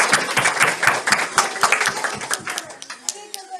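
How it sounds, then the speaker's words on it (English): Audience applause for a performer at a Radhastami event at the Bensalem Cultural Center, a mix of clapping hands in a room, steady and moderately loud, fading slightly toward the end. "big round of applause for her"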